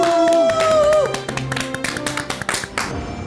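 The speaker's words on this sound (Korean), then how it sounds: "큰 박수로 모셔주시기 바랍니다." Studio audience applauds to welcome a psychologist guest on a Korean talk-show stage, with a sustained musical tone early on and then steady clapping. A voice is heard over the applause.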